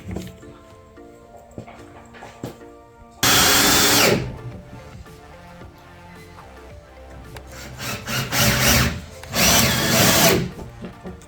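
A power drill drives 2.5-inch screws into a 2x4 on a modern slat-top outdoor wood bench, with loud, close bursts of whining spin separated by quieter handling, knocks and shuffling.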